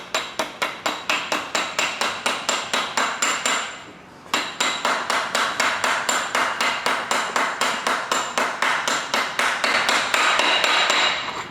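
A 1 5/8-inch socket is hammered to tap an oil pump drive gear onto the crankshaft of a 5.3L LS LM7 V8, giving a rapid, steady series of sharp metallic taps with one brief pause, close and loud.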